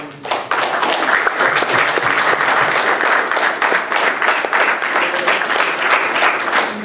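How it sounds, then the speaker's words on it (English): An audience at a university hip hop panel discussion applauding steadily, a dense wash of many hands clapping close by, sustained throughout. "Please give a round of applause to the panel."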